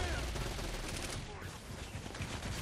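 Dense, continuous rapid fire from an SMG in Saints Row 4: Gat Out of Hell, a loud rattling stream of shots layered over game noise without pause.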